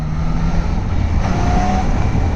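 A Triumph Daytona 2025 motorcycle engine runs in a loud, steady rumble mixed with road and wind roar, continuous and without talk.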